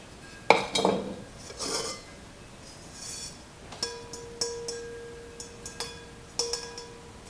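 Porcelain bisque bowls, one fluted, are unpacked and handled, giving sharp ceramic clinks and knocks spaced irregularly, a few ringing with a sustained tone, at moderate volume in a quiet room.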